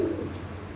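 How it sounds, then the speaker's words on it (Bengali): A baby Indian Lotan pigeon gives a short, soft coo, close and alone over faint background noise. "অরিজিনাল ইন্ডিয়ান লোটন কবুতর বেবি"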